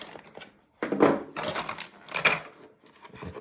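Plastic packaging on a Calico Critters Baby Star Carousel toy is cut open in short, crisp clicking and snipping bursts with brief pauses between them, close up and fairly quiet.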